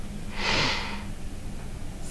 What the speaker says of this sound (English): Sniff.